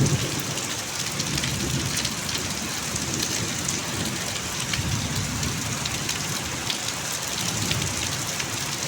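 Heavy rain pours down in a steady dense wash over a rural village where ripe mangoes are dropping from the trees, with low rolls of thunder beneath and nobody speaking.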